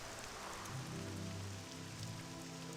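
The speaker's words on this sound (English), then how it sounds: "It seems like the rain is about to stop." Steady rain falls in the Morrowind video game at night, an even, continuous patter on surfaces, with a low rumble underneath and no talk.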